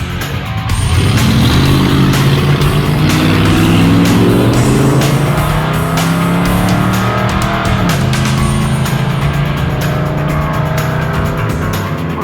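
Drag race car launching hard with tire spin, engine roaring loud and close with screeching rubber, the revving howl sustained and shifting pitch for several seconds.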